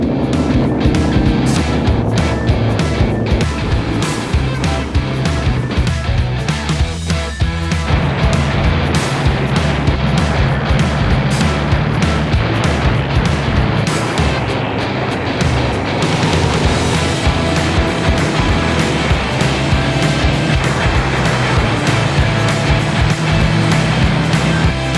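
A KTM 1290 Super Adventure motorcycle rides on a wet road, its engine a steady, loud drone with rushing wind and road noise throughout, no pauses.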